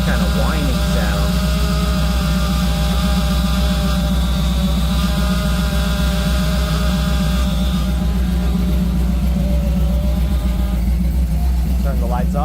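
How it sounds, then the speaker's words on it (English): An electrical whine from a 1967 Chevrolet Camaro with the lights switched on, a steady thin tone heard close up over a low engine hum, with someone talking throughout. "So when I turn on the lights, you get this kind of whining sound."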